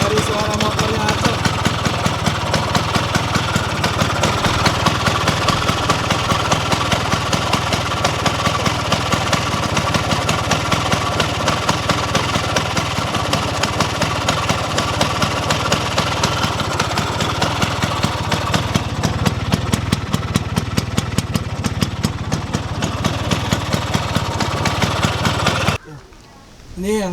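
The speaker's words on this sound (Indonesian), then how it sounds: "kita langsung cek aja, kita dengerin suara dari motornya si Acong." An Excel 150cc motorcycle engine idles steadily and loudly up close for nearly the whole stretch, with an even, rapid mechanical chug, before cutting out abruptly at the end.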